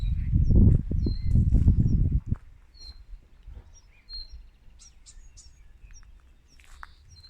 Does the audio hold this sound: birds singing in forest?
yes